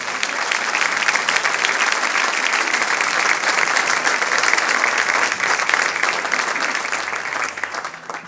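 A church congregation applauds steadily for about eight seconds, a dense, even clapping that fades slightly at the end with no talk over it.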